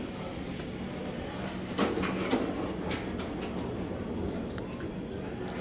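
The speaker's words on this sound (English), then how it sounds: "you can hear the machine room" The elevator machine room at Chesapeake Regional Medical Center in Chesapeake, Virginia, gives off a steady low mechanical rumble and hum, with a few faint clanks and ticks.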